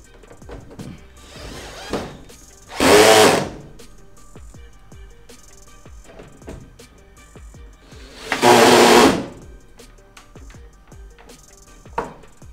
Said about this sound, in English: I just need to put the screws back on here and here,